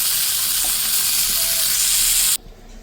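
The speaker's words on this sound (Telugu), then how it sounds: "కొబ్బరి అయితే వేయించుకోవాలండి" Grated coconut and green chillies fry in a pan with a loud, dense hiss and sizzle that cuts off abruptly near the end, leaving quiet.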